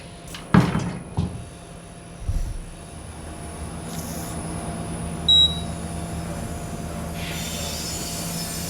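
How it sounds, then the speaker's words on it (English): An elevator door in a parking garage slides shut with a few soft mechanical thumps and clunks, followed by a steady low hum of the car and a faint rising hiss near the end. "Watch the door close."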